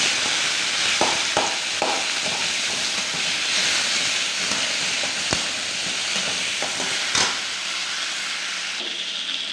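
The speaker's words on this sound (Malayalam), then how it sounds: "ഉള്ളി വാടിയതിന് ശേഷം നമുക്ക് തക്കാളി ഇടുക." Tomatoes and onions fry in a pan for a sardine curry, a steady, loud sizzling hiss throughout, broken by a few sharp clicks and scrapes of stirring.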